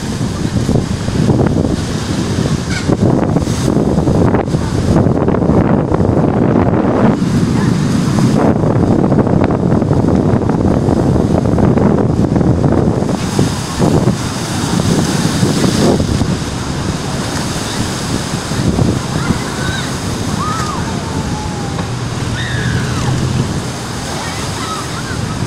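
Surf washing in at Boa Viagem beach in Recife as the tide rises, a loud continuous roar of breaking waves with wind buffeting the microphone and a steady wash that eases slightly toward the end.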